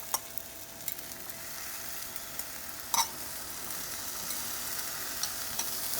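Onions frying and being stirred in a pan during post-workout meal prep: a steady, moderately quiet broadband sizzle with occasional soft clinks of a utensil, one sharper knock near the middle, no talking.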